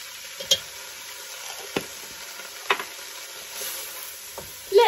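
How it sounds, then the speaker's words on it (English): Cumin, ground cinnamon and other spices frying in a pan: a quiet, steady sizzle broken by a few sharp taps and clicks of a utensil, close by, with no talking. "Let those cook for about a minute until you can really start to smell those spices and it's really fragrant."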